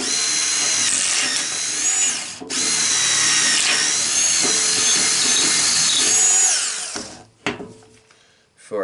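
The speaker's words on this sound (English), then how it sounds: "So I'm just going to go ahead and drill these out." A power drill boring pocket holes with a Kreg jig set for 7/8 inch stock, clamped with a face clamp on a wooden rail for a bearded dragon enclosure: a loud, steady whine with a brief dip, then stopping near the end with a short rattle.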